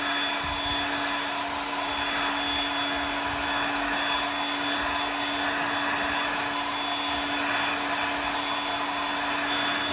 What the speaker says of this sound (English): So heat gun, just dry the acetone out.